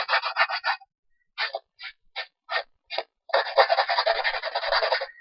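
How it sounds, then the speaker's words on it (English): Rough rasping strokes of a distress tool scuffing the edge of a paper page for ink crafting, a few quick bursts, then short separated scrapes, then a longer continuous scratchy run, close and alone. "So I'm just roughly distressing this side."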